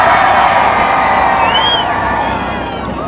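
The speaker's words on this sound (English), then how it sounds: "If you want the Cobra to win, cheer now" Loud outdoor crowd at a supercar weekend show cheering and whooping for a Cobra, a sustained roar of mixed voices with a few high shouts, close and continuous.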